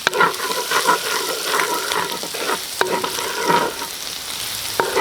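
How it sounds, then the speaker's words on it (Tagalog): Garlic sautéing in a pan for a fried pork belly dish in salted egg sauce: a close, steady oil sizzle with stirring scrapes and a few sharp utensil knocks against the pan. "magigisa tayo sa bawang"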